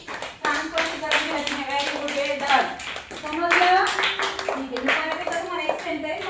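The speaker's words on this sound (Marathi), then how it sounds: "टाळ्या वाजवा आरुषीसाठी" Children in a school classroom clap together for a classmate, a loud close patter of many hands lasting several seconds, with children's voices and an adult talking over it.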